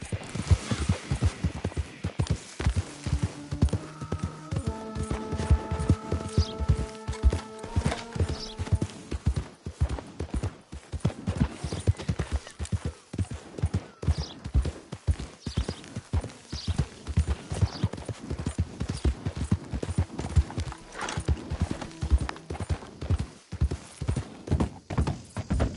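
Horse hooves in a PS4 video game, a steady rhythmic clip-clop of galloping throughout, loud and continuous, with a few brief tonal game sounds early on.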